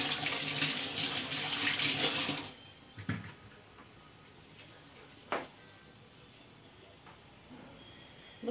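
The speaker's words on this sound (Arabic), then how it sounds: "هبدا ان انا اغسل الطماطم بتاعتي اهي" Tomatoes washed under a running kitchen tap: a loud, steady rush of water for about two seconds, then the flow stops, leaving a few faint clunks and light handling sounds in a quiet room.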